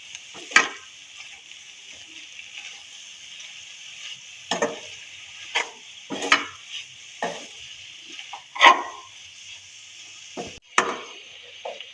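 A spoon stirs a cumin and coriander powder mixture in a pan, making a series of separate scraping and tapping strokes at irregular intervals over a faint hiss, with no talking.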